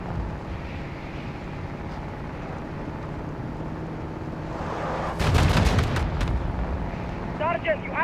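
An APC fires on the player in a Modern Warfare 2 Remastered battle. Rumbling combat fills the background, then a loud burst of heavy gunfire and blasts erupts at the midpoint, and a voice comes in near the end.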